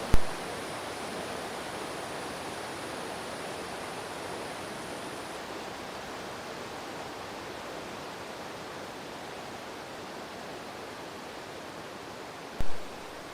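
Cold Granite Creek rushes steadily around a wader crossing on slippery rocks, a constant broad hiss of strong current heard close and alone, with a brief thump near the start and end.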